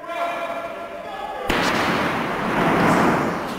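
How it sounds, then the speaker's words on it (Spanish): A single sharp rifle shot in news footage of a shooting at a government building. It cracks loudly and then decays into a wash of echoing noise. "there was a man with a rifle shooting at a bunch of people"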